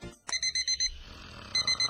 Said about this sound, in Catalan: És hora de canviar el despertador.